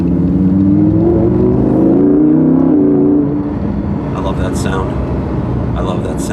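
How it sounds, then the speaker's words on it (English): Lamborghini Huracan 580-2 rear-drive V10 supercar engine, a steady loud droning growl with a wailing edge that holds for several seconds and then eases slightly, with a brief clatter near the end. "An LS had a baby with an Italian supercar engine, and you get that mixture of a wail and growl"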